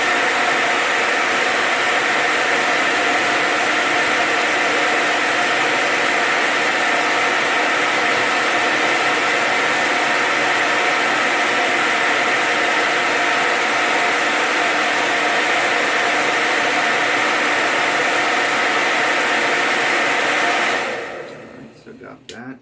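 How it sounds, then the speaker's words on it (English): Hair dryer blowing steadily on a beard, a loud continuous whoosh held close for about twenty seconds before cutting off abruptly near the end, with no talking over it. "And I'm going to blow dry this as well."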